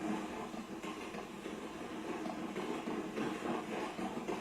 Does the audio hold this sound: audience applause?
no